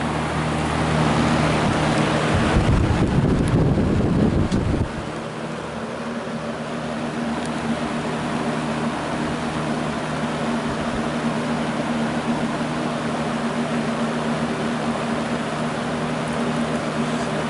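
A Brentwood box fan running at high speed gives a steady, loud whooshing hum with a low motor drone, near and constant, after a brief burst of louder rumbling handling noise early on.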